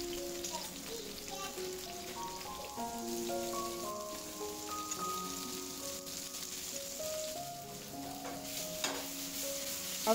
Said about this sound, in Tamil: கொஞ்சமாக தக்காளி வெங்காயம் இந்த மாதிரி ஸ்லைஸ் பண்ணி சேர்த்துட்டு 2 பக்கமும் வதங்க விடலாம்.